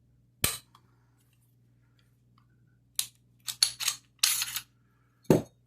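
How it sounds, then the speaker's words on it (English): Sharp metallic clicks and clacks come from a pistol being taken apart as its slide is pulled off. A single snap is followed by a quiet pause, then a quick cluster of close clatters and one final click. "You slide the slide right off."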